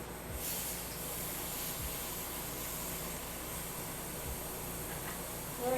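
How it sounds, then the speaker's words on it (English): An air compressor for airbrush painting runs with a steady broadband hiss, constant and moderately loud, with a few dull low thumps early on. "compressor's on"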